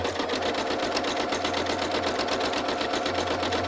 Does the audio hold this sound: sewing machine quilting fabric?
yes